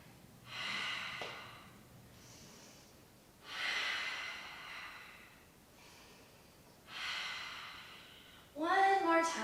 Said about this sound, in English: So I'm ready to breathe out through my mouth.